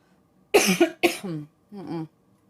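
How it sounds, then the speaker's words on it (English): A person coughs two sharp times close up, followed by a brief throaty vocal sound; quiet otherwise. "I don't like that when I cough when I do that"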